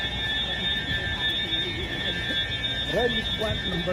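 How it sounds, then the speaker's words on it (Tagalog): A shrill, continuous alarm tone rings steadily while people talk nearby. "Fire alarm."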